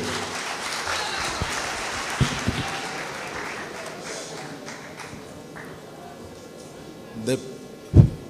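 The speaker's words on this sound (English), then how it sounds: "Can I give a round of applause, please, for the governorship candidate of the All Progressive Congress, APC." An audience at a Lagos State governorship debate applauds for a candidate in a hall, the clapping fading over several seconds before a few sharp knocks near the end.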